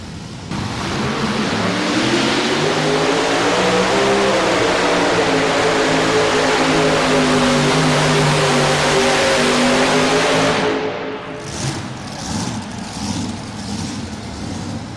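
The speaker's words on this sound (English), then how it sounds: "But an outstanding modified tractor." A modified pulling tractor roars at full throttle during a tractor pull in Louisville, Kentucky, a loud sustained engine howl with rising pitch for about ten seconds before it cuts off into crowd noise.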